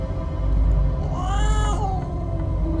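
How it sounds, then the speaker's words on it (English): An angry cat lets out a loud, drawn-out yowling growl that rises and wavers over a low rumble, close and alone, for a few seconds. "I heard a hiss and spat of an angry cat."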